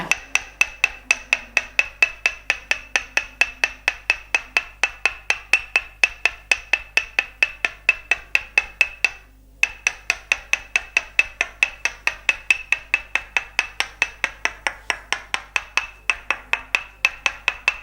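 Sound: tok sen massage, tapping muscles with wooden hammer

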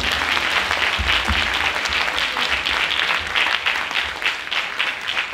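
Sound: audience applause at Christmas show

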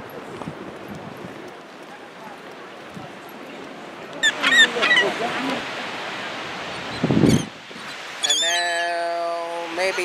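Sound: seagulls calling at the boardwalk

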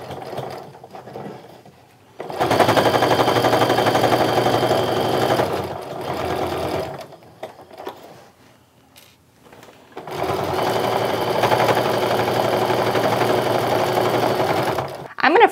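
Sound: sewing machine stitching a wallet seam

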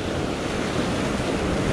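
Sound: ocean waves breaking on rocky shore

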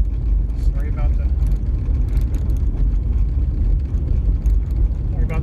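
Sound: car driving on gravel road

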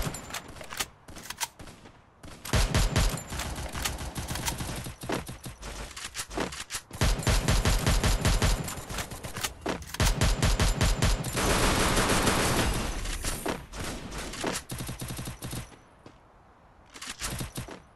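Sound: gunfire in the video game Garena Free Fire

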